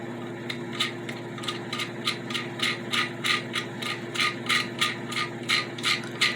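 A ratcheting wrench tightens a nut on a toilet tank bolt, giving a steady run of quick clicking strokes, close and fairly quiet over a low hum.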